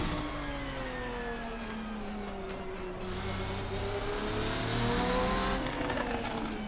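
A Race Sim Studio Ferruccio 57 race car engine in Assetto Corsa drones and revs steadily, with rising and falling pitch as it shifts through gears, loud and continuous without any voices.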